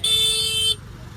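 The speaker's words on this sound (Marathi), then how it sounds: "ट्रॅफिक बघू शकता खूप झालेलं आहे इथे" Heavy road traffic on a busy street, a single loud car horn honk lasting under a second over a low rumble of engines, then the background traffic noise continues.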